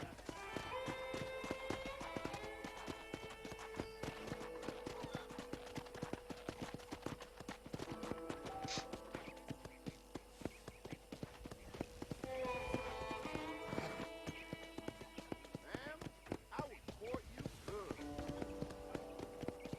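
Horse hooves clip-clopping at a steady walking rhythm on a ranch in the video game Red Dead Redemption, continuous and moderately close, layered under game music and ambience throughout.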